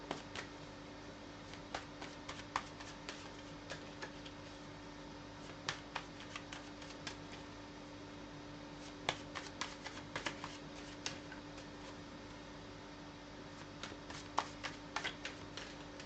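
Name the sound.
shuffling tarot cards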